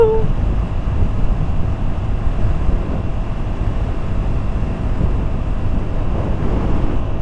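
A motorcycle ridden on the road gives a steady, loud rush of wind buffeting over a low engine drone, continuous throughout with no speech.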